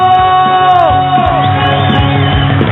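A studio audience on a Pakistani TV game show erupts in loud cheering, whoops and shouting, a sustained and boisterous crowd roar close up.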